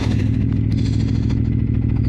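A Ducati Monster 950 engine fitted with an aftermarket Turbinoni exhaust, a close, loud, steady throbbing rumble with rapid clattering pulses throughout.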